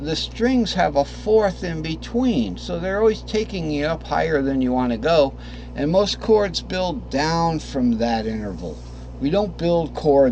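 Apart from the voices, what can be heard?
None of the usual background noises is heard.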